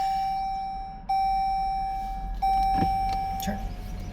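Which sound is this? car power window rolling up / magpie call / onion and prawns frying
car power window rolling up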